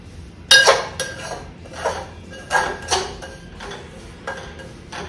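Semolina (rava) being stirred and roasted in a metal pan for beetroot kesari, heard as a series of sharp utensil scrapes and clinks against the pan at irregular intervals, fairly close, with no talking.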